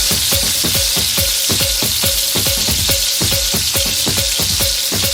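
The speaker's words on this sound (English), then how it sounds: "Remember to keep stirring so that the onions on the edges of the pot do not burn." Onions frying in oil in a pot for Swahili pilau, a steady loud sizzle broken by repeated rhythmic scraping strokes of a spoon stirring against the pot, with no voices.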